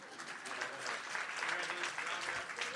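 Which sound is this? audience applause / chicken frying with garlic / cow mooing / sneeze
audience applause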